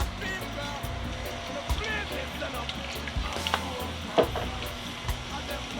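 Garlic frying in stir-fry oil for vegan fried rice: a continuous close sizzle with occasional utensil clicks and scrapes, while someone talks over it.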